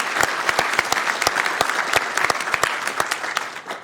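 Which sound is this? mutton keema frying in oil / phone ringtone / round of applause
round of applause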